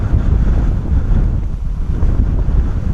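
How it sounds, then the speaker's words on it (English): Strong, gusty wind buffets the microphone at an airport, a loud continuous low roar that swells and dips steadily with no voices. "She is pretty blustery, my friends."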